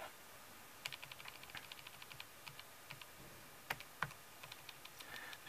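Calculator keys are tapped in quick, light, irregular clicks during a maths calculation, close and quiet over a faint hiss, with no voices.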